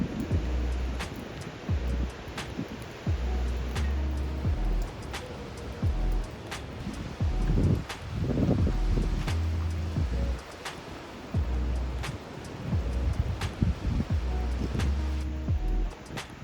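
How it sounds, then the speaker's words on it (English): Strong wind gusts roar through trees beside a small off-grid wind turbine, a broad rushing noise with microphone buffeting that swells and eases in waves. "The wind is pretty strong, but the trees are definitely affecting the performance of the turbine."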